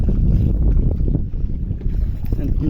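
A small boat travels along the Bangali river, giving a loud, steady low rumble of engine and water mixed with wind buffeting the microphone, continuous for the whole stretch.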